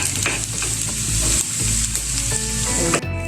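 Onions and curry leaves sizzle loudly in hot coconut oil, a Kerala tempering for kumbalanga pachadi, with steady close frying crackle and a brief stir near the end.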